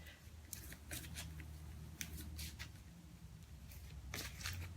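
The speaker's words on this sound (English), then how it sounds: "I'm going to keep shuffling" A deck of oracle cards is shuffled by hand in quick, crisp bursts of riffling and flicking, close and fairly quiet, with a soft background hum.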